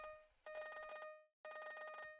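The Abaphone rings while calling Trevor in Hypixel Skyblock, a quiet electronic telephone bell trilling in two long rapid bursts separated by a short pause, with no talk.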